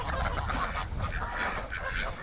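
Ducks kept in a winter setting call in a busy, continuous chorus of honks and quacks, close and fairly loud throughout.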